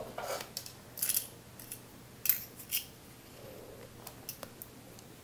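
Scissors snipping a length of elastic for sewing a bodysuit, several sharp separate clicks and snips spread unevenly over a few seconds in a quiet room.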